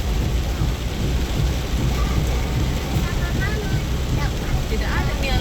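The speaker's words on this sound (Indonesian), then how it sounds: "bersamaan kita mau balik, turun hujan keras." Heavy rain pours in a continuous loud hiss with a low rumble of thunder beneath it, steady throughout, with faint higher sounds rising briefly near the end.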